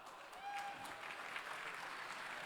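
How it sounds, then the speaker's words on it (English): Faint applause from an audience at a Formula SAE Michigan awards ceremony, a soft even patter of clapping in a large room, lasting a couple of seconds. "let's give Kaylee a nice round of applause"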